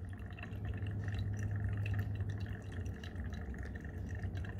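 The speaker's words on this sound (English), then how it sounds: "Oh, there we go. Dripping." Liquid dripping from a burette into a flask during a titration of brick cleaner, a soft continuous watery trickle with faint drops over a low steady hum, no talk.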